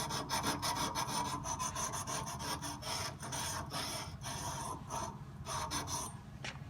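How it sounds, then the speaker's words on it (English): Emery cloth rubs steadily over copper pipe to strip oxidation before soldering, a dense, continuous rasping scrape with brief rhythmic strokes, close and fairly loud throughout with no talking. "use this emery cloth to kind of rub off that oxidized and clean up the copper piping"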